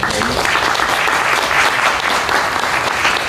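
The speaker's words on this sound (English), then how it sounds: "let's give a big round of applause for Amy" An audience at a residents' association annual meeting gives a speaker a round of applause: dense, steady clapping from many people, loud and continuous, with some voices under it.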